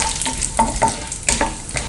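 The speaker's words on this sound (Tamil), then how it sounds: "எண்ணெய் நல்லா காஞ்சதுக்கப்புறம் கடுகு போட்டுக்கலாம்." Mustard seeds with chana dal and urad dal frying in hot oil in a kadai, a loud close sizzle with rapid crackling pops and stirring scrapes.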